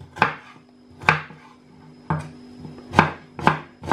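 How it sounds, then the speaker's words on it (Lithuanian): Knife chopping onion finely on a board, five or six sharp, separate thwacks at an uneven pace, close and clear with no talking. "Smulkiai supjaustam svogūną."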